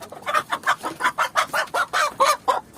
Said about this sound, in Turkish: Tavukları tek tek yakalıyorsunuz.